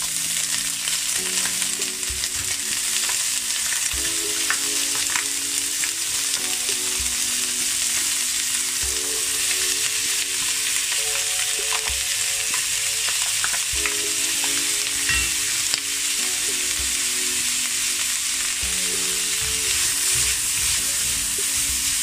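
Bacon fries in a tablespoon of vegetable oil for spaghetti carbonara, giving a steady, close, dense sizzle that holds through the whole stretch, with soft music running underneath and no talking.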